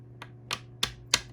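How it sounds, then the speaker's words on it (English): A tarot clarifier card deck being shuffled, four crisp separate card snaps or riffles spaced evenly about a third of a second apart, close and fairly loud with no talking. "I'm shuffling my clarifier deck"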